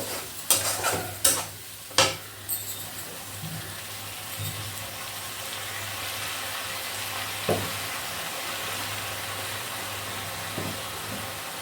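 Onion frying in a pan over a gas flame, a sustained hiss and sizzle that opens with several loud clattering stirs and scrapes, then settles into a steady crackle.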